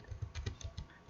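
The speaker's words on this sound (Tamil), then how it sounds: "ஸோ அதுக்கான ஃபங்க்ஷனை நான் டைப் பண்ணுறேன்." Quick keystrokes as an Excel formula is typed on a computer keyboard, about six soft close clicks in a brisk uneven burst with no talking.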